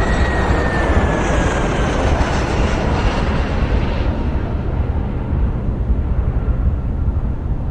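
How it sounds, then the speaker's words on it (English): A jet aircraft in the EuroFly audio flight game roars past loudly, a broad continuous engine rush with a high whine that fades slightly toward the end, with no speech over it. "Here comes the jet."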